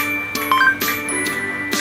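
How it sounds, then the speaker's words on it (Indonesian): Coin collect sound effect from a Scratch game about catching traditional foods, a short bright jingling chime standing out over a steady background hum. "ini suara koinnya udah masuk ya teman-teman"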